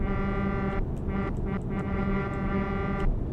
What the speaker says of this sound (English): That's my air horns